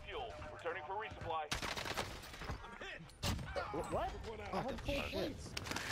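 Video game gunfire crackles in quick bursts and single sharp shots through a noisy firefight, mixed in under excited overlapping talk.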